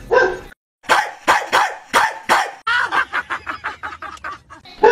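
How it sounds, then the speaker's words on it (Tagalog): A dog barks repeatedly, first in a few spaced loud barks, then in a rapid run of shorter yelps, close and loud. "Ang hingi pa ng aso namin, boss. Humihiyaw na siya"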